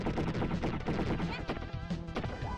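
Enemy gunfire in the Wild Guns shooter, a loud dense barrage of rapid shots and impacts continuing for a few seconds over busy game music and effects.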